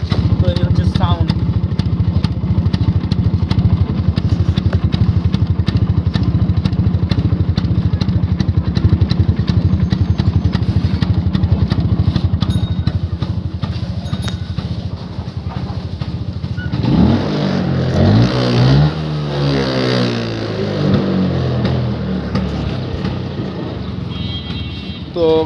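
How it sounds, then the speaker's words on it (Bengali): A second-hand Vespa scooter engine idles with a steady, close putter for most of the stretch, its note shifting and revving briefly near the end while a person talks over it. "ভেসপার সাউন্ড এরকম হইতে পারে"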